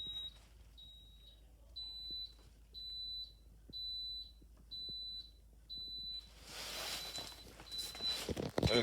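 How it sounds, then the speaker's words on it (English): Burglar alarms sound in a home with a fire alarm system, a high piercing beep pulsing in a steady rhythm about eight times, then giving way to rustling noise and handling sounds. "Of course, my burglar alarms are going to start going off again."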